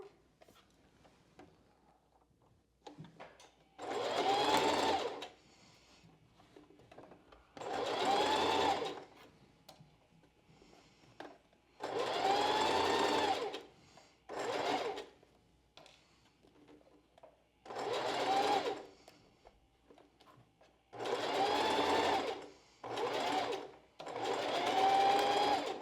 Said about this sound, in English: to sew the center cup on